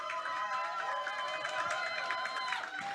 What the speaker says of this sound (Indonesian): Boleh tepuk tangan sekali lagi teman-teman semuanya.